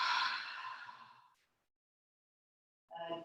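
A long, breathy audible exhale through the mouth during a yoga breathing exercise fades out over a second and a half, followed by silence and the start of another breath.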